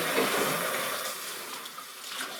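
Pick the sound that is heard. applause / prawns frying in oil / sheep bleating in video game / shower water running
shower water running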